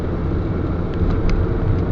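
A Peugeot car rounds a roundabout, heard from inside as a steady, close low engine and road rumble with no change in pace over a couple of seconds.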